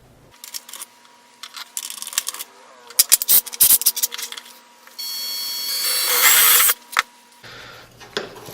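Power drill running through a workpiece in several short bursts, then a longer sustained whine of drilling, with tool handling clatter between runs, close and fairly loud.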